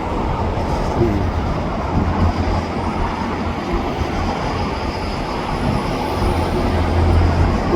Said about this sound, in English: I'm filming the eastbound shop train departure